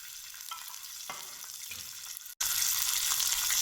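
Garlic fries in a little oil for a spicy Maharashtrian mutton rassa, a gentle sizzle that cuts out briefly, then returns as a brighter, louder hiss.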